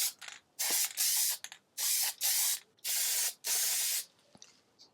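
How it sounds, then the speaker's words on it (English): Four long bursts of sprayed lacquer toner hiss onto a piece of wood during a restoration, each lasting about half a second to a second with short pauses between, close and loud. "I think I'm gonna use lacquer toner on top of this."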